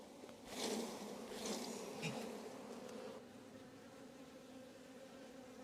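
Honeybees buzzing around an opened hive during an inspection, a soft, continuous droning swarm with a few louder close passes near the start and no talking.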